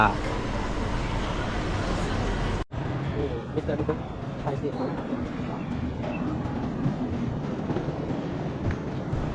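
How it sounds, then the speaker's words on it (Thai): Rumbling electric metro train noise in Kuala Lumpur rolls on steadily, cut by a sudden brief drop, then continues more quietly with a faint murmur of voices in the background. "รถไฟฟ้า"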